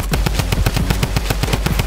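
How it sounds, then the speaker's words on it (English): Rapid automatic gunfire from the Fortnite video game rattles out loud and close, roughly a dozen evenly spaced shots in a quick continuous burst. "Shoot out the roof so I can shoot those guys"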